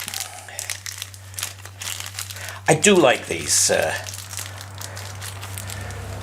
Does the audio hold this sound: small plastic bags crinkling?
yes